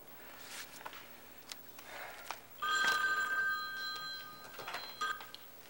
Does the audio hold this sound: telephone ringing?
yes